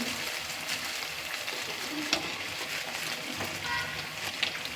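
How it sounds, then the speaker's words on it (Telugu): Pieces of bottle gourd dough frying in hot oil, a steady broadband sizzle that runs throughout at moderate loudness, with a few faint clicks and pops and no talking. "ఈ విధంగా ఫ్రై చేసుకుంటున్నానండి వీటిని కలర్ వచ్చేస్తున్నాయి చూడండి"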